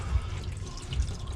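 Water drips from a truck being nursed along to keep running, a few soft low drops over a quiet wet background, close by and with no talking.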